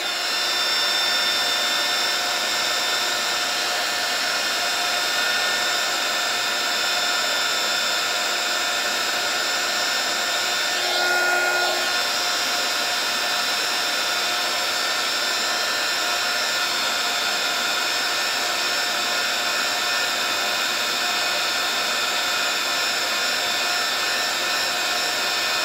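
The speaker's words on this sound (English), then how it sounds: "I'm going to use my heat gun to give it a embossing effect" A heat gun blowing hot air for embossing on a decoupage plaque makes a loud, unbroken fan-and-air roar with a steady whine, holding nearly constant for about twenty-five seconds.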